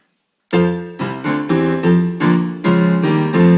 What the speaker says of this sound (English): Big brash sounding piano